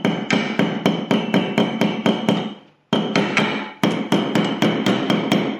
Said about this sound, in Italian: quindi diamo qualche martellatina